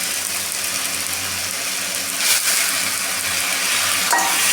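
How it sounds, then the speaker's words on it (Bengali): Pre-boiled cabbage goes into a hot pan that already holds boiled potato, giving a continuous loud sizzle with a brief scrape toward the end. "এবার আমরা আমাদের বাঁধাকপিটা দিয়ে দেবো।"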